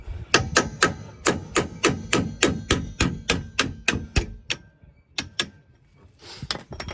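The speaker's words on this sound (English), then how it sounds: "we'll tap the bolt out" A hammer taps a bolt out of a rear strut mount on a 2004–2010 Lexus RX 330/350/400 with a rapid series of about twenty sharp metallic blows, close and loud. A couple of spaced final hits follow, then brief handling noise.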